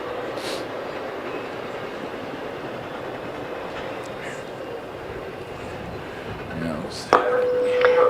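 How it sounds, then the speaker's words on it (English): A train rolls past at a track meet, a steady loud rumble with wheel clatter filling the whole stretch, and a sharp clank and high tone near the end. "And our next train is coming by."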